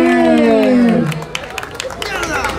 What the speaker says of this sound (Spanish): Mando un fuerte aplauso para Pierre